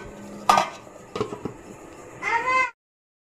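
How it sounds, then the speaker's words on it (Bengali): A metal lid clanks onto a cooking pot of duck meat curry: a sharp clatter, then a few lighter knocks, ending with a brief tonal squeal before silence. "আমি এখন ঢাকনাটা দিয়ে দিতেছি।"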